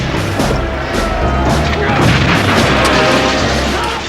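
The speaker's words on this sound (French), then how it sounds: "des coups de canon tirés à courte distance" Close-range cannon fire from a naval battle, a loud continuous barrage of booms and rumbling blasts rolling on without pause, dense and heavy throughout.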